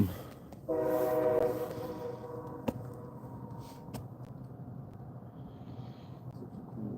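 A train horn sounds loudly for about a second, then a distant train rumbles past steadily, with a sharp clank partway through.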